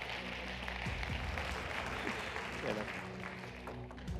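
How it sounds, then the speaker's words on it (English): A pageant audience at Miss Universe Malta 2023 applauds steadily and densely for several seconds, the clapping sustained throughout with a low murmur of crowd and voices beneath it. "Round of applause."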